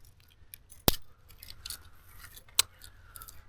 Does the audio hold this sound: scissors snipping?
yes